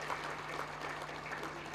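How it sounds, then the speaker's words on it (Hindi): An audience claps at a memorial lecture event in India. The applause is steady and dense, with many hands clapping continuously at moderate volume throughout. "कुछ तालियों में कंजूसी कर रहे हैं आप लोग"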